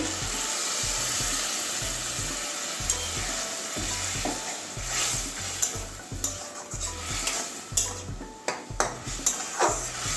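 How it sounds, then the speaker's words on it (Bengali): Water from a mixer jar is poured into a pan of okra in mustard sauce, a hissing sizzle and bubbling that settles into stirring and a few light clinks of utensils, with no talking. "এবারে মিক্সির বাটিতেই জলটা ফেলে দিচ্ছি"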